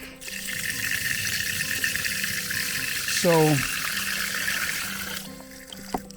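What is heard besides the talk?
water being let out through an opening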